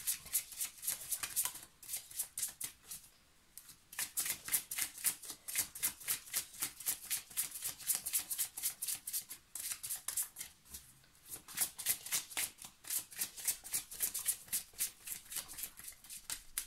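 Tarot cards shuffled by hand in rapid riffling bursts, crisp papery flutters repeating close up with a few short pauses between runs, no talking.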